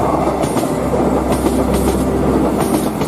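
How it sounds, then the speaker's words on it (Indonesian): Gajayana passenger train rolling steadily along the tracks, a loud, continuous rumble with rhythmic clickety-clack wheel beats and occasional metallic squeals, close and sustained throughout. "Kereta pun kembali berjalan dan lolos dari stasiun Jatinegara."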